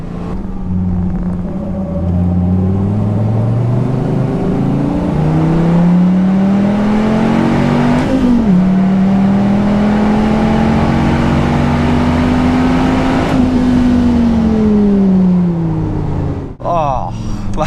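A Dodge Viper ACR engine pulls hard on a race track, its loud, close drone climbing and easing through the gears with a brief shift dip, while a driver talks over the roar.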